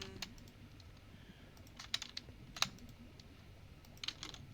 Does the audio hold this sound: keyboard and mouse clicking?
yes